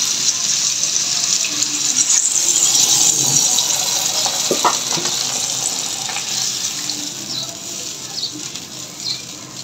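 Water poured into a pan of fried spices for a fish curry hisses and sizzles in a steady, close wash, with a few faint clinks over the sound.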